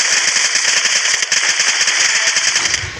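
Rapid automatic gunfire in a multiplayer shooter video game, a loud dense stream of rattling shots repeating without pause for three seconds.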